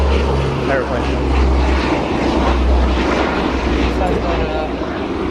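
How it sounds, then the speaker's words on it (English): A propeller airplane engine drones steadily and continuously at a junkyard, a broad rumble sitting under faint background voices. "Airplane."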